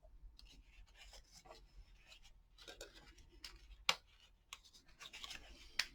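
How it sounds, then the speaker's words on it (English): Glued paper box edges are burnished with a series of short, dry rubbing strokes close by, quiet and rasping, with one sharper click partway through. "attach these two edges right here. Gonna burnish it in."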